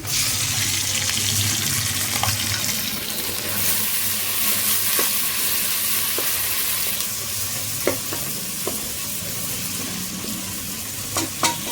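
Chopped tomatoes frying in an oiled pan give a loud, continuous close sizzle, with occasional sharp clicks of a spoon against the pan toward the end and no voices.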